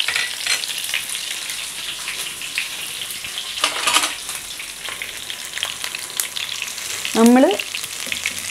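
Crushed ginger, garlic and curry leaves fry in oil for an anchovy fry, a close steady sizzle with bursts of crackle and a brief spoon scrape near the end, a short word spoken over it.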